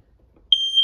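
Smoke detector in a 2023 Forest River Wildwood 42VIEW RV being tested: after a brief pause, a loud, piercing electronic tone starts and holds steady, close by.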